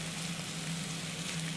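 Chicken korma sauce simmering in a frying pan gives a steady, even sizzle and bubbling with no talk over it.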